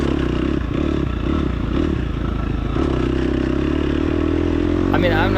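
A dirt bike or off-road motorcycle engine labours on a hot, dusty ranch trail, revving unevenly as the rider abuses the clutch, with rattling and clatter throughout and a steady loud drone under the riding.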